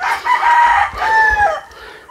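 Roosters crow loudly and close by among the hens on a Filipino poultry farm, with two drawn-out crows in quick succession and no talk over them.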